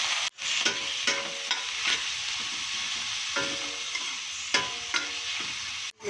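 Squid sizzles loudly in a hot pan with onion, garlic and ginger while being stirred, a steady close frying hiss broken by repeated scraping strokes of the spoon.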